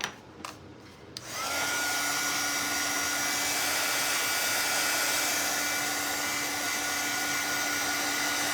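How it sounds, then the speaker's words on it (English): A hair dryer blows steadily to dry Snow-Tex texture paste on a pink craft tree, starting after a second of quiet clicks and then holding a loud, constant whooshing whine for the rest of the clip. "I'm gonna throw the dryer on here real quick."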